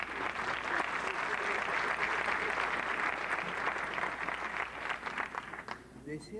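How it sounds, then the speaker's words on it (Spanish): An audience applauds an honoree at a tribute ceremony for a golden award. The clapping is dense and sustained for about six seconds, then thins out at the end. "Venga el aplauso para don Amador Manrique"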